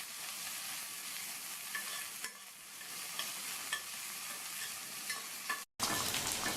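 Shallots and crushed garlic sautéing in a pan for sambar, giving a continuous close sizzle with scraping stirs throughout and a brief cut near the end.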